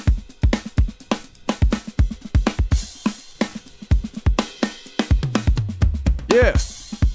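A drummer plays a kit in a Logic session mix for a song, a busy groove of punchy kicks and snares with other instruments layered in and a short sliding tone near the end.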